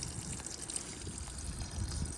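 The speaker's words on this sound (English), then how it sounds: "You want to empty your water tanks so they're not freezing through the winter." Water drains from the tanks of a 2021 Elddis Platinum CV20 campervan, a soft continuous trickle and gurgle of liquid running out, fairly quiet and steady throughout with no voices.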